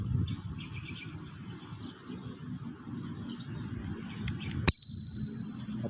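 A Cat Eye bicycle bell gives a single bright ding late in the clip, ringing out over outdoor ambience with faint bird chirps and low rumble.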